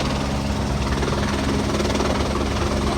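Loud, steady helicopter rotor and engine drone close by, continuous throughout with a low rhythmic thrum and no talk, as heard while boarding the chopper on a hiking trip.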